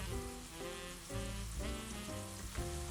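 Small diced onions and peppers fry in hot oil for a lamb shank curry, a constant close sizzle with a tonal musical backing running underneath.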